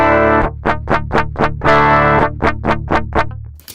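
An electric guitar runs through BIAS Amp distortion for a modern metal tone, playing a string of loud, heavily distorted chugged chords in quick rhythm, close and alone, ending with a short cutoff.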